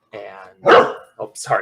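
A golden doodle barks close and loud in a few deep, separate barks, with a person talking in between.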